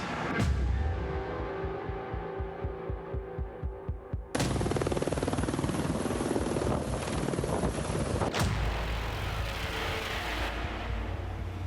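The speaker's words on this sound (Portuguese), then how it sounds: "As vítimas em estado grave foram socorridas e transportadas de helicópteros aos hospitais de Joinville e Curitiba." A rescue helicopter flying near a highway accident site on the BR-376, its rotor thumping in a fast steady pulse, then giving way to a loud continuous broadband roar and rushing noise.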